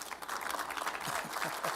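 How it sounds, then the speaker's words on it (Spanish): Faint clapping in a church during a sermon, a few soft, spaced claps from what sounds like a lone listener, heard quietly against room noise. "Nada más una persona aplaudió."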